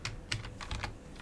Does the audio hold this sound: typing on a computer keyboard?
yes